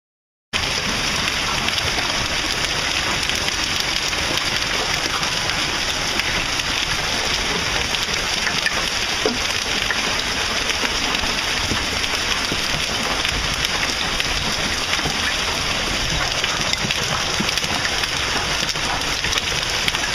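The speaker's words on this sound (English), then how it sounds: "hailstorms like these are actually pretty common and occur almost every spring" Hail and rain pounding down during a spring storm in North Dallas, Texas, a dense, steady roar of impacts holding at constant loudness for the whole stretch with no voices.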